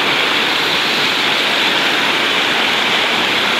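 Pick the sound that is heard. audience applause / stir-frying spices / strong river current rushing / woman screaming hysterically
strong river current rushing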